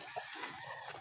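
Chickens cluck softly at a moderate distance in a brief, faint stretch, with scattered short calls over a steady background.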